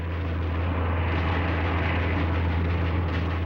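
Engines of a Bf 110 and a Spitfire in wartime gun-camera film, a steady loud droning roar with a deep low hum, unbroken and without talk.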